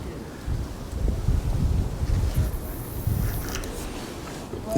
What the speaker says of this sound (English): Just hard to get it accurate because it's swirling everywhere as well as this wind